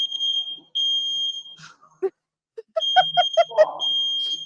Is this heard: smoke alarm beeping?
yes